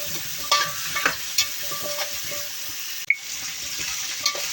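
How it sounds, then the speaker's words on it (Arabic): Carrots, onions and potatoes fry in a pot, a continuous sizzle broken by the scrape and clack of a utensil stirring the vegetables at close range. "قلبي بقى كده الخضار الجميل ده مع بعضه"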